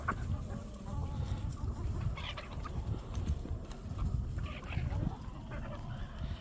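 Rhode Island Red and barred rock mutt hens on a pasture-raised egg layer farm cluck and murmur at close range, a busy flock texture with some faint background noise.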